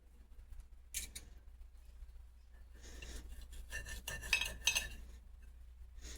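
Cutlery and dishes clink and scrape while a plate of oven-baked pork chop, stovetop stuffing and green beans is served, a sharp rasp near the start followed by a busier stretch of close scraping and light clinks, with no talking.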